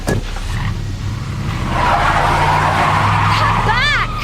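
A car speeds off with tyres skidding and squealing in an audio drama scene, a loud sustained engine roar under shouting voices that ends in a rising squeal.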